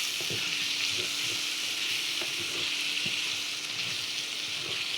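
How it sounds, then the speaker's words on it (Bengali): Chicken pieces frying with masala spices in a pan, a steady loud sizzle running throughout with occasional scraping stirs from a spatula. "এইভাবে ভাজা ভাজা করে রান্না করতে হবে"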